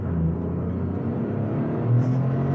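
A 2024 Toyota GR Corolla cruising on the road, its engine giving a steady low rumble and drone heard from inside the car, with no talking.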